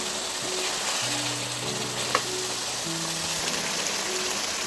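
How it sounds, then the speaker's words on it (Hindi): Desi ghee sizzles loudly around mutton frying in a pot, a dense, steady crackling hiss up close with a single sharp clink partway through and a faint hum beneath, with no speech. "अब देसी घी भी हमने डाल दिया यहाँ पे और इसको काफ़ी अच्छी तरीके से यहाँ पे भुनेंगे"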